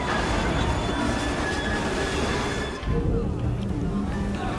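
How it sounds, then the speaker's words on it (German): A train rolling on rails in the video game Assassin's Creed Syndicate, a dense steady rumble and rattle with faint metallic squeal, continuous and loud throughout, with a brief dip before it resumes. "Ich darf den Zug hier gerade schon zum 5. Mal verfolgen."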